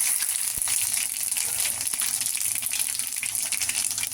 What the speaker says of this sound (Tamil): எண்ணெய் காஞ்சதும் கடுகு போடணும். பச்சை மிளகா போடணும்.